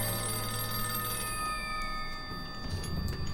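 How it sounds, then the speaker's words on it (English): An old-style telephone, not connected to any line, rings in a Doctor Who episode set during the wartime Blitz: a bright, continuous electric bell trill that carries on steadily throughout, clear and close, with no talk over it. "What am I supposed to do with a ringing phone?"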